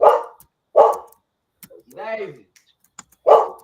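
A house dog barks close by during a live streamed broadcast, three sharp barks spaced about a second apart, with a brief voice in the gap between them.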